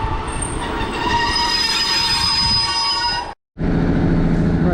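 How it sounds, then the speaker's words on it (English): Train departing Cardiff Queen Street station, heard on board: a loud, steady rolling rumble with high wheel squeal, briefly cutting out before resuming. "Right, so just departing Cardiff Queen Street now, heading over back to Cardiff Central."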